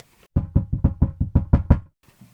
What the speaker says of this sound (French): Arrivé chez Baba, Bébé cogne à la porte.